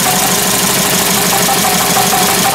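A CAT forklift engine idles loudly and continuously, rough and uneven from a dead miss caused by a shorted ignition coil, with a steady knocking pulse and no voices.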